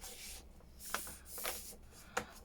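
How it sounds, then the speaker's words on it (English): Paper being cut in half with scissors while making a junk journal: a few crisp snipping and rustling strokes, close and quiet, with no one talking. "So I'm going to cut both of these in half"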